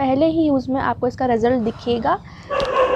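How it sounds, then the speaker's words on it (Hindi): Dogs barking and yipping in a home, heard as tonal high yelps and whimpers mixed in and around a woman's speech. "कुत्ते भौंक रहे हैं"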